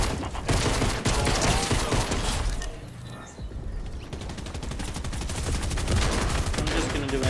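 Rapid bursts of automatic gunfire from an enemy player in a shooter game crackle loudly and nearly nonstop, pausing briefly midway before the rattling volleys resume.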